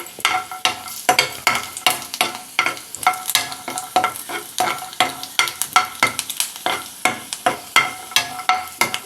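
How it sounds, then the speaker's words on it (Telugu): Peanuts and cut dried red chillies frying in oil in a pan, a continuous close sizzle broken by a quick, regular series of stirring scrapes and clicks throughout, no talking. "ఈ వేరుశనగలు ఎండుమిర్చి కూడా వేగాయి"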